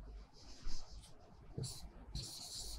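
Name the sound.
writing on a board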